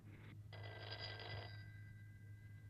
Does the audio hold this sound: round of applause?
no